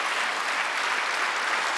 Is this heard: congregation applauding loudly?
yes